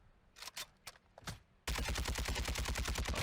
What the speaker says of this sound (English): I'm actually shooting them through the floor